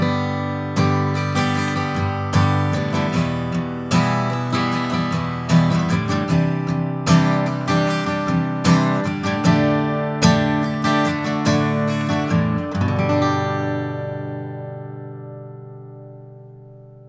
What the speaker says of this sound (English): let's begin by turning off the pickup and just hearing the acoustic guitar into the